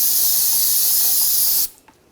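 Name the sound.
brake parts cleaner spray on BMW X5 brake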